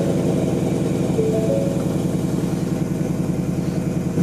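A car engine idling close by on a cold morning, a steady rhythmic low purr with a faint tonal whine in the middle, continuous and unchanging, with no voices.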